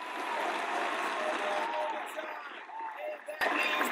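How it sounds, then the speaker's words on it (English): A crowd applauds for Scooter Magruder, a dense wash of clapping that holds steady before thinning toward the end, heard somewhat distant, likely with a voice over it. "give this man a great round of applause"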